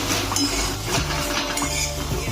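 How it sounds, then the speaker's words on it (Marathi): Garlic cloves and ginger being sautéed with coconut and onion in a pan for a village-style chicken rassa, with repeated metal clinks and scrapes of a spatula against the pan over a steady background hiss. "हे लसणाच्या पाकळ्या, अद्रक आणि हे परत एकदा चांगलं असं परतून घ्यायचं आहे सगळं मिक्स"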